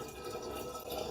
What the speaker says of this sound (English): Now we just fill the keg with water.